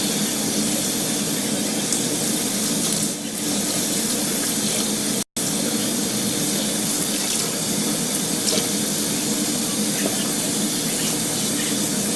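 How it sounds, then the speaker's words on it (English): Warm tap water runs steadily into a sink as a wig is rinsed of fabric softener, a continuous splashing rush with a brief dip partway and one abrupt cut, otherwise unbroken throughout. "now I'm going to rinse it in warm water, rinse all the fabric softener out of it"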